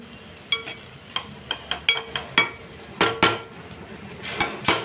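Tomato and beans frying in a pan with a faint steady sizzle beneath repeated sharp clinks of a utensil stirring against the metal, irregular taps close and moderately loud.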